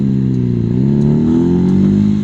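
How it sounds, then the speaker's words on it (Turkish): A modified car engine revs loudly nearby, a deep, steady, rising drone with harmonic growl that holds strong throughout, heard from a passing motorcycle ride. "Nasıl bir modifiyedir o ya? Arabanın sese bak sese."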